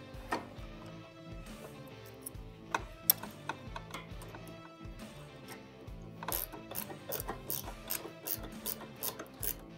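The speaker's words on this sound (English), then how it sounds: "I'm going to be using that half-inch ratcheting wrench like I was talking about earlier, and then our half-inch socket and ratchet." A half-inch socket and ratchet turn a bolt while fitting an expedition rack to a Can-Am Commander, giving rapid, close clicking bursts of the pawl in quick strokes with brief pauses, with no talk.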